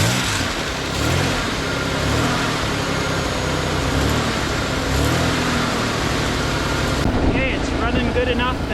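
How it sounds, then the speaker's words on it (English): A Ford Bronco II engine cranks and runs with a loud, steady, rough rumble close by for several seconds, while voices talk over it. "now we're gonna see if we can get it just crank and start"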